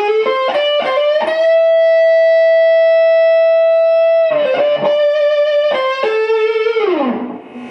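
Electric guitar through a Fender Blues Junior amp with the fat switch engaged, Boogie-style tone: a quick run of overdriven picked notes, a long sustained singing note, more notes, then a sliding bend down to the end, loud and alone.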